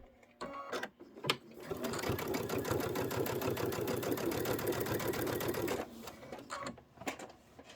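A sewing machine top stitches around a fabric pennant in one continuous, fast, even burst of needle strokes lasting several seconds, preceded and followed by brief handling clicks and quiet.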